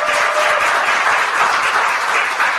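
Loud, dense applause from a large crowd at a Korean political group discussion event, a continuous even wash of clapping with no talk over it.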